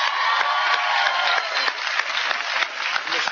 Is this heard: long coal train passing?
no